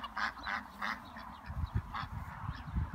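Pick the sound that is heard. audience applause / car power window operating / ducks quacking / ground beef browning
ducks quacking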